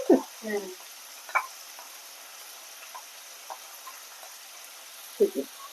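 Chopped garlic and onion frying in oil for chicken chorchori make a soft, low sizzle in the background, broken by brief voice sounds and a few light clinks.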